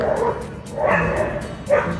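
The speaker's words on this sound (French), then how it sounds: "Donc une bagarre de chien, désolé" Several dogs fight and bark in a tense scuffle, sharp yaps and growling bursts rising in waves, fairly loud and close with no talk over them.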